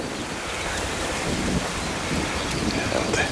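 Steady wind gusting across the microphone, a continuous broadband rush with rumbling low buffeting, no voices.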